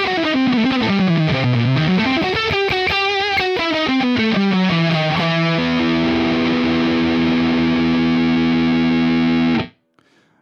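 An electric guitar plays through heavy distortion with bending, sliding notes, then holds a sustained ringing chord before cutting off abruptly near the end.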